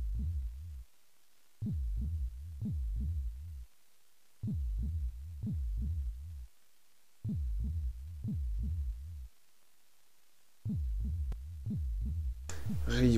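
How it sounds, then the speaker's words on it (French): Rhythmic heartbeat effect from the Breath of Fire 2 video game, deep double thumps repeating in steady bursts separated by short pauses, loud and close, with a brief rising synth tone at the end. "C'est des battements de cœur, ça,"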